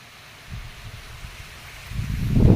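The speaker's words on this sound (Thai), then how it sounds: "ต้นยางก็เอ็นไปเอ็นมาอยู่นี่แหละ ครับ" Wind gusting through a small rubber tree plantation under a darkening, stormy sky, a low rushing roar that swells and grows louder toward the end, with no voices.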